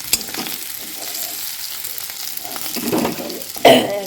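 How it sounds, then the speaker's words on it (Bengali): Potatoes fried with turmeric in oil, a close sizzle with light stirring throughout, swelling briefly with a louder scrape near the end. "আলু ভাজি হয়ে গেছে।"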